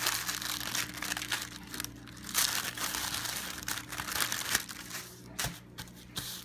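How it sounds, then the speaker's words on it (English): Wax paper is peeled away from ramen noodle packets that have been fused together with heat, giving a steady run of close, soft crinkling and crumpling with small crackles and tearing sounds. "you can just peel away the wax paper"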